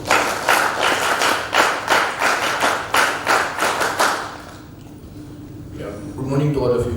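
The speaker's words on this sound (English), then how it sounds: "Immediate clap, go" Audience at a Silver Jubilee event claps in rhythmic unison to welcome a speaker, a loud steady beat of synchronized claps lasting about four seconds before fading, then a voice begins talking.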